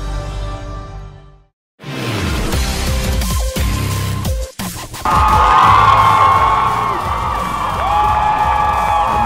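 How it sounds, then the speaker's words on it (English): Milford High School fans cheering their Tigers at a 1A state championship football game at Eccles Coliseum, a loud, sustained crowd roar with whoops and shouts, swelling after a brief dropout. "That Milford crowd is cheering on their Tigers."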